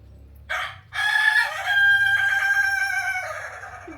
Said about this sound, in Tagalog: Naririnig nyo yung manok tumitilaok.